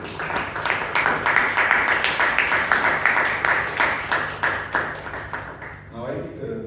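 Members at a Bangalore Toastmasters club meeting give a round of applause: sustained, fairly loud clapping from many hands that tapers near the end, where a voice briefly comes in.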